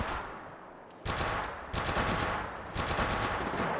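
Gunfire in the mobile battle royale game Apex Legends Mobile: three loud, sustained automatic bursts back to back, each a dense rattling roar, with no talking.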